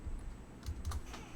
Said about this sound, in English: Now I can't see if I'm typing it right.